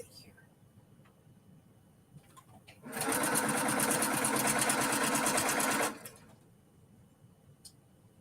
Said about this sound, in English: I'm sewing the wrong things together.